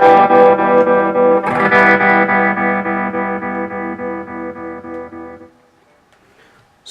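Guitar through an Electro Harmonix Stereo Pulsar tremolo pedal, a sustained distorted chord pulsing in steady rapid choppy beats, loud and close, with the signal barely dipping between pulses before it fades to near silence.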